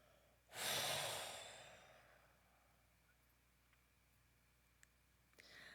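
A single deep, long exhale during a breathing exercise, close and breathy, swelling quickly then fading slowly into near silence with a faint stir at the end.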